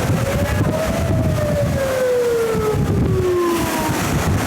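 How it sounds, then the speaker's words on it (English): A wailing flood warning siren along the Milford shoreline slowly falls in pitch, sounding from a distance over steady wind noise. "the sirens did around 8 a.m."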